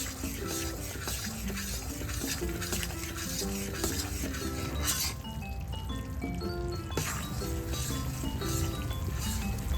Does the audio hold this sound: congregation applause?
no